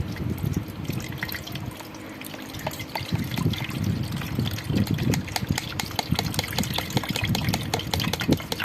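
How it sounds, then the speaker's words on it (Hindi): Milk pours and trickles steadily into a pot, with small splashes and drips throughout, fairly close. "इसमें हम थोड़ा दूध शामिल करेंगे।"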